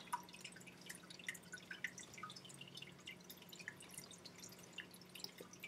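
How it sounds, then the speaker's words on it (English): Water trickling and dripping in a home fish tank beside a computer, a steady close patter of small drips over a low hum, with no voices. "the fish tank's right next to the computer, so that's why the water's kind of loud"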